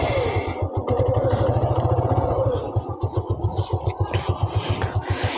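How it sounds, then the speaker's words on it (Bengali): A used motorcycle engine idles in neutral, close by, with a steady rapid thumping beat that loosens into slower, uneven pulses toward the end, while a person talks faintly over it. "আমার ইঞ্জিনের সাউন্ডটা কেমন শোনা যাচ্ছে, এই হলো সাউন্ড।"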